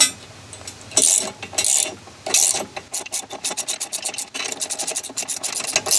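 Nylock nut spun by hand onto a bolt of a Kimpex Click & Go plow mount on a Polaris Sportsman ATV, giving close, rapid raspy scraping bursts of metal thread friction, quiet pauses between, no talking.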